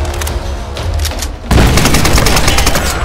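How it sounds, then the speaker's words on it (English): Grenade explosions in a modded Tomb Raider (2013) game, with steady loud gunfire and combat noise that suddenly swells into a heavy, booming blast, followed by a continuous rumbling roar that stays loud to the end. "Oh, my grenades are going everywhere."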